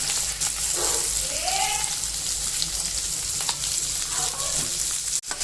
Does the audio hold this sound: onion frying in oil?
yes